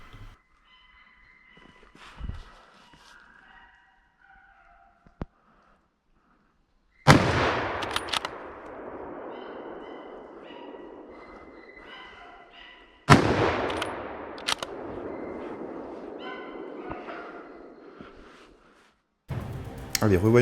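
Two loud rifle shots crack out several seconds apart, each echoing and decaying across open ground during a driven wild boar hunt. Faint voices and quiet ambience fill the gaps between the shots.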